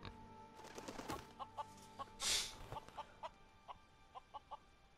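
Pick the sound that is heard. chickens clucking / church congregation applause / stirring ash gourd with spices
chickens clucking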